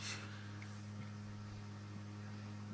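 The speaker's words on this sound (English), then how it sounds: "if you hear anything buzzing in the background, that's my computer." Steady electrical buzz from a computer, a constant low hum with strong harmonic lines holding evenly throughout, faint and unbroken in the background with no talking.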